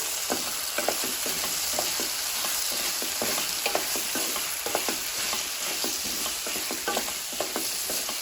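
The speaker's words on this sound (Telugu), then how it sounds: "ఇప్పుడు ఒకసారి కలుపుకోవాలి" Spices are stirred into food frying in a pan, with a constant sizzle under repeated quick scraping and tapping strokes of a spoon against the pan.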